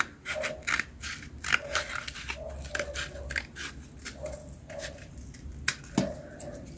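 Scissors snip through a small strip of material for a portable fire-starting kit, with a series of close, crisp cuts and crunchy snaps in an irregular rhythm.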